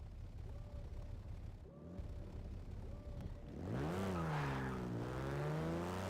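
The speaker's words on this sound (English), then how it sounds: "that does sound like an old Alfa V6" An old Alfa Romeo V6 engine in a Garry's Mod driving game idles with a low, steady hum, then revs up loudly and holds a rising, strained drone near the end.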